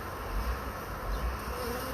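A honeybee swarm being collected into a box hums in a dense, steady buzz from many bees at close range, with no talk.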